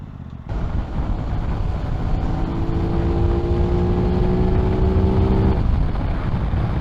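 A 2021 Aprilia RS660 motorcycle engine revving up to about 7,000 RPM, a loud steady engine drone with rising tone under heavy wind rush, alone without talk.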